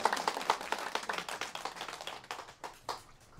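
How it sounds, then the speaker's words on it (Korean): A small group claps to welcome a popular singer at a senior community center, with brisk, fairly dense hand claps that gradually thin out and grow fainter. "박수로 환영해주세요."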